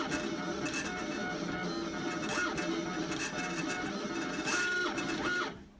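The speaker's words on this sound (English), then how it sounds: "the cutter will start cutting it" A vinyl cutter slices vinyl for silkscreening with a steady mechanical whir, broken by short rising and falling motor sweeps as the head moves, then stops abruptly near the end.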